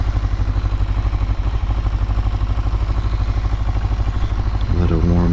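A motorcycle engine idles in neutral while warming up after a kick-started start, its steady low rumble pulsing evenly and loudly, with a slight change in tone near the end.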